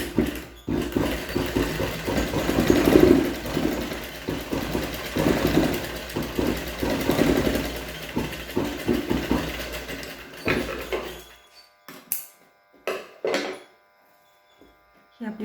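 A sewing machine stitches a cloth mask with a rapid, buzzing mechanical rattle that runs steadily for about eleven seconds, then stops and gives way to a few short bursts, with someone talking nearby.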